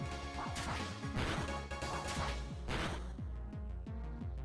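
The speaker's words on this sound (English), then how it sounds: "That's the leaf blade sound." Leaf blade weapon strikes in a video game, a series of sharp slashing thwacks repeating roughly every half second over a busy, dense game soundtrack, fairly loud and close.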